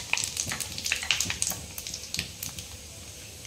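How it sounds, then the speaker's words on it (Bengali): Panch phoron and a few dried red chillies frying in hot oil for kul pickle, a steady close crackle and sizzle with scattered sharp pops that gradually thin out. "আমি ফোড়নটা একটু ভেজে নিচ্ছি।"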